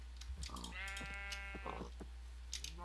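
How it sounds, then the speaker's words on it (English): Sheep bleat in the Minecraft video game with the Thaumcraft modpack, a couple of drawn-out wavering bleats near and clear, among small clicking game sounds. "Hey, I didn't want a baby sheep."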